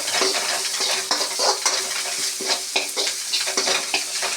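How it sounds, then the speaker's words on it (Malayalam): A mixture being stirred and fried in a pan until brownish, a continuous bright sizzle with repeated scraping strokes of a spoon at a fairly regular pace. "ജസ്റ്റ് അതൊന്ന് ഇങ്ങനെ ചെയ്ത് കൊടുക്കുക, ഇളക്കി കൊടുക്കുക."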